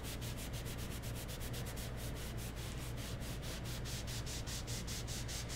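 Sandpaper rubbing back and forth over a painted Christmas stencil project to distress the paint, a steady close rhythmic scrubbing with quick regular strokes throughout, no talking.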